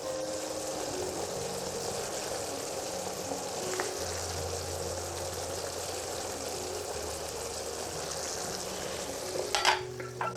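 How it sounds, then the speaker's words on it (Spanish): Pork tenderloin frying in a pan gives a steady close sizzle and bubbling throughout, with a sharper clatter or burst of hissing near the end. "ahora voy a echarle la carne."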